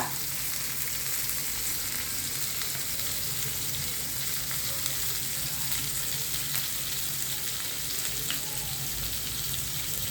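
Onion frying in a pan for a cucumber curry, giving a steady, even sizzle that runs without a break from start to end, close and moderately loud, with no voices.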